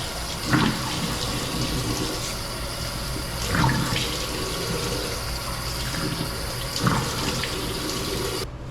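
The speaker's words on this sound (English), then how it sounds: "Gotta wash the face." Tap water runs steadily into a sink while someone washes their face, with a few louder splashes from hands scooping water, close and continuous, with no talking.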